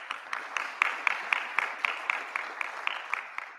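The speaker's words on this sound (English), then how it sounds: "Golf clap, please." A small conference audience gives a light, sparse golf clap for a cybersecurity event sponsor, with distinct, evenly spaced claps rising slightly then holding steady in a quiet room.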